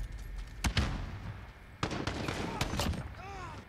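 FAL rifle hip-fire shots in Modern Warfare on the Cheshire Park map: a few sharp, close bangs spaced apart amid other game noise, with a voice talking in between.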